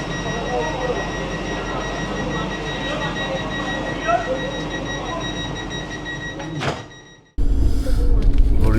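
Interior rumble of a Vande Bharat sleeper train running late between Howrah and Kamakhya after rain, a steady low drone with faint rattles, interrupted near the end by a brief near-silent break before the loud running noise resumes.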